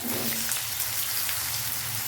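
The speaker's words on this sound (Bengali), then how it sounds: "আলুগুলোকে একটু লাল করে ভেজে নেবো" Potatoes fry in hot oil in a kadai until reddened, a dense, even sizzling hiss that runs continuously and close up without pause.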